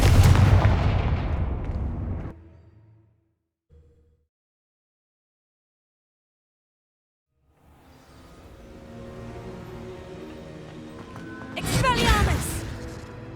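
Blasting-spell explosions in the Hogwarts Legacy game: a loud burst at the start fades into near silence, then rumbling battle noise builds and another sharp impact crashes near the end, with spell voices shouted over the action.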